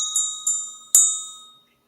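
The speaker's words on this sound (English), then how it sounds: "See the new bell? Look at that." A small new Christmas bell struck three times, bright clear rings that each decay quickly, the last one loudest, heard alone in quiet surroundings.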